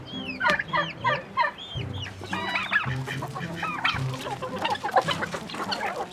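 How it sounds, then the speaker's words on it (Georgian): A decorative-breed chicken on a farm in Racha, Georgia clucks in quick, close bursts, with short rising squawks and a few louder calls spread across the clip, heard alone without talk. "ეს არის დეკორატიული ჯიშის ქათამი."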